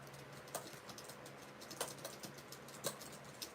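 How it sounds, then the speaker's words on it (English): Keys clack on a computer keyboard in soft, irregular bursts, with a few sharper strikes standing out over quiet room noise and no voices. "Are you guys just gonna hear me typing?"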